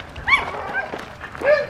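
Small dogs near at hand let out a few high yips and whimpering barks, with one sharp yelp early and a longer whine near the end.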